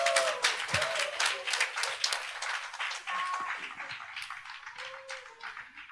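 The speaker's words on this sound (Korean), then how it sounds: "박수 한 번만 다시 한번 부탁드릴게요" An audience at a teachers' academic research conference claps together, a quick bright burst of many hands that fades off over a few seconds, with a voice briefly heard underneath.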